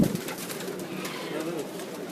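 Teddy pigeons perched on a home rooftop give soft, low cooing beneath steady background noise, with people talking nearby throughout.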